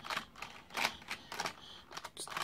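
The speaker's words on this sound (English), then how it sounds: "she's just actively trying to type something." Someone typing on a keyboard nearby in bursts of quick clacking keystrokes with short pauses between runs, moderately loud and alone, with no talking.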